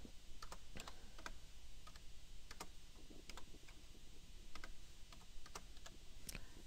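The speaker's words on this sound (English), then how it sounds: "Let's go ahead and type those in." Keys tapped on a computer keyboard while entering a few numbers, sharp separate clicks in irregular bursts over a quiet background hum, close by with no talking.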